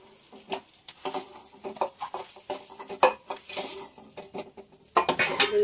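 A metal utensil scrapes and clatters against a pan while lightly fried eggs are lifted out, with repeated close clinks and a burst of sizzling oil toward the end.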